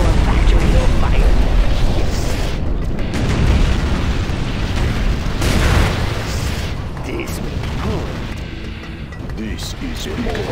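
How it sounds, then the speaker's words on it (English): A nuclear missile detonates in the real-time strategy game Generals Shockwave, a loud, sustained rolling boom with deep rumble and crackling blasts over about ten seconds, under battlefield noise and game voices. "We have launched our nuclear missile."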